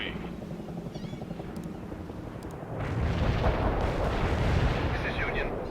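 Artillery fire in the real-time strategy game World in Conflict, on a mission in France, rolls in as a dense, continuous barrage of rumbling booms that swells louder partway through under steady battlefield noise and faint radio chatter.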